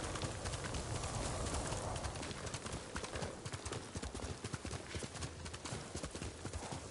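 Horse hooves clip-clopping in a video game, a steady rhythmic trot of close hoofbeats with occasional faint bird calls in the background.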